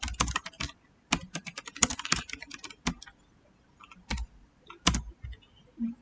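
Typing on a computer keyboard while editing data in an application: quick bursts of close, crisp key clicks separated by short pauses, with no voices.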